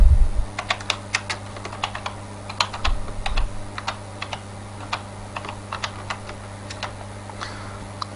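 Keys clatter on a computer keyboard as commands are entered in a Debian root console, a steady stream of close, crisp clicks in irregular bursts over a low electronic hum.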